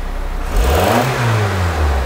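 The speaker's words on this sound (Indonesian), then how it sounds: "Cepet juga nge-revnya tapi ya." A Honda Prelude engine with a light flywheel revs up quickly, a close mid-pitched rise and fall that holds a steady hum for about a second and a half, with no talk over it.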